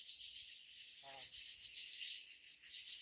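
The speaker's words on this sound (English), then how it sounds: "There's just tree frogs and bugs and typical Missouri sounds." Night insects and tree frogs near Table Rock Lake, Missouri keep up a continuous high shrill chorus at a steady moderate level, with a brief low call rising over it once.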